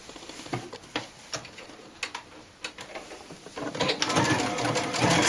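A sewing machine stitches a seam on doll pants, giving close, rapid mechanical patter in short bursts, then one longer continuous run that speeds up toward the end.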